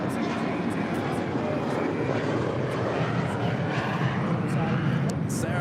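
Air Canada A330-300 pushing back from the gate at LAX, bound for Toronto; a continuous close engine and ground-equipment rumble with a steady hum, overlaid by talking.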